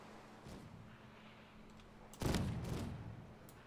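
Cannon fire in a naval battle in the game Caribbean!, a faint distant boom early on, then a louder volley that rolls out and slowly fades over a low background hum.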